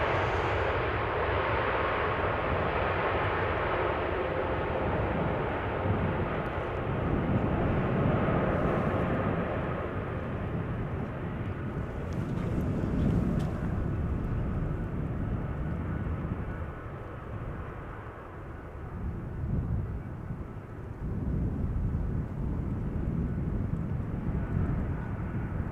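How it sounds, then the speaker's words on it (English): A KLM airliner lands at Amsterdam Schiphol Airport, a continuous broad engine and roll-out roar heard from a distance, holding steady for about twenty-five seconds with a brief dip in loudness near the end. "Nice KLM landing, keeping up the speed, vacating late, sooner to the gate."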